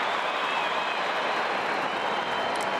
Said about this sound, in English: Finally, the crowd gets something to roar about.